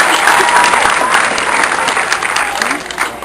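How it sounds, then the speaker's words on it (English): Warm applause from a community gathering at a hospital-related evening event, a dense, continuous wash of clapping heard close, easing slightly toward the end. "Another round of applause for Denise."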